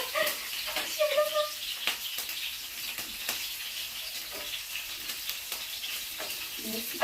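Green chillies hit hot oil already holding garlic and ginger for a chicken curry, giving a steady crackling sizzle with occasional stirring clinks and brief faint background noises.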